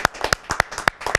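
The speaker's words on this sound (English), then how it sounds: "Let's give her a big round of applause." A studio audience on an Indian talk show claps for a henna artist, a short burst of sharp, closely spaced handclaps from a small group.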